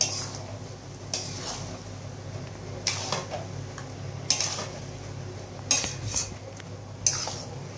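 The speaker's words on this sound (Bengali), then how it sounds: "এর মধ্যে মিশিয়ে নেব চালটাকে" Rice being mixed in a pot with a metal spoon, a series of sharp clinks and scrapes against the pot at irregular intervals over a quiet background.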